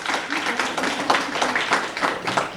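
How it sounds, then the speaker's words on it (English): Audience applause at a county check presentation in Brockton, a dense patter of many hands clapping at moderate volume, steady throughout with a few louder individual claps. "we'll give a round of applause"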